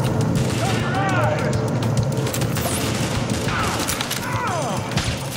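Gunfire in the video game The Division, a continuous rattle of shots and booming bursts under background game sound, with a few scattered sweeping tones.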